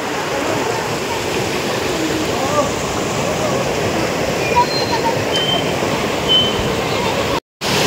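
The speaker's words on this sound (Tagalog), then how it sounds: "Nandito po kami sa kung saan ang tubig ay rumaragasa" Water rushes steadily at a riverside nature spot in DRT, Bulacan, a loud continuous roar filling the whole clip, with a brief dropout near the end.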